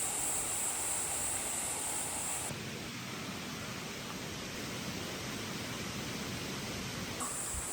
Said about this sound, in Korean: 폭포가 절경이야